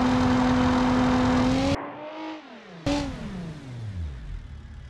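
Nissan GT-R engine in a driving video game, a loud steady high rev that cuts off abruptly, then returns and winds down in pitch as the car slows.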